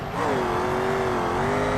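BMW 5 Series in the BeamNG driving game spinning its wheels on a circuit, engine revving steadily with a sustained wavering squealing tone, close and loud with no talk.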